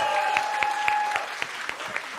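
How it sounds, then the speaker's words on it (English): Audience applause for Daniel Miller at a Depeche Mode press conference in Paris, steady and fairly loud, with a few sharp individual claps standing out above the crowd and a faint tonal hum underneath. "let's give him a round of applause"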